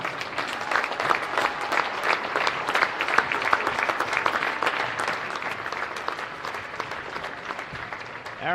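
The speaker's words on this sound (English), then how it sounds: "Fans, let's give these 2 seniors one final round of applause." Crowd at a high school boys' basketball senior night in a gym applauds for several seconds, a dense, steady patter of many hands clapping with a faint voice mixed in.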